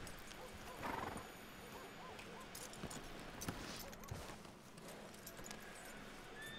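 A horse in Red Dead Redemption 2 whinnies and scuffs nearby amid outdoor ambience, with scattered hoof knocks and a brief neigh-like burst early on.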